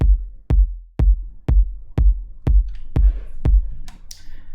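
A steady, punchy layered kick drum for piano house hits about twice a second, deep and booming with a clicky attack, repeating eight or nine times alone.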